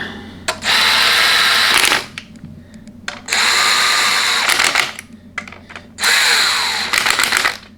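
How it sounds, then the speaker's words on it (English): A 3/8 inch impact gun drives bolts into a Dodge 68RFE transmission case in three long rattling bursts, each about a second or more, separated by short pauses, loud and close. "if you're going to drill bolts on with an impact like this as a 3/8 inch gun"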